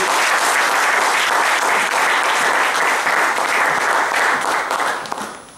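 Loud, dense applause and cheering from a church congregation rolls on steadily for several seconds, then fades out at the close.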